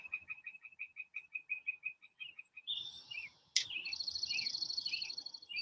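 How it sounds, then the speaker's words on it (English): Wild birds chirp and call busily around several backyard bird feeders, with a steady run of repeated short chirps followed by a denser burst of overlapping song and a sharp click, heard close and fairly clear with no talking. "My mom has 3 or 4 bird feeders out here, and the birds are just going crazy right now"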